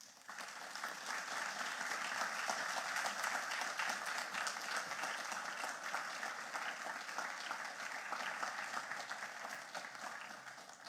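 Sustained audience applause after a lecture by a Vice Chancellor, a dense continuous clapping from a large room, even and steady, heard somewhat distant and fading slightly at the end.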